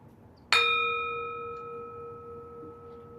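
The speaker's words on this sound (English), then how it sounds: "So we'll ring the bell to get us started" A single meditation bell is struck once to open a sitting session, ringing out with a sharp attack and then a long, pure, slowly fading tone that sustains for several seconds in a quiet room.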